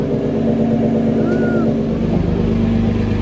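A car idles and creeps slowly backward onto a dyno, a steady loud low engine rumble with a faint squeak partway through.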